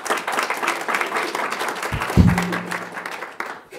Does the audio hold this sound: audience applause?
yes